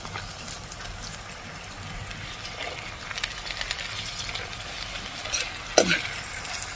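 Soaked chana dal fries with red onions in hot oil for a ridge gourd curry. A steady close sizzle runs under scraping stirs, with a sharp clatter near the end and no talking.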